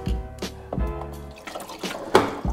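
A Jura 110 espresso machine drips liquid, with several distinct, close, irregularly spaced drops and splashes against a quiet background.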